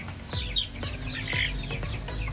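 Native hen on a farm gives a few soft, quiet clucks and chirpy calls over a low background hum.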